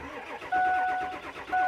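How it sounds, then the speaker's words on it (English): A Ford F350 truck with a crank-no-start fault turning over, a rhythmic chugging starter cadence with two bursts of a high steady whine, close and moderately loud. "The engine cadence sounds nice and consistent"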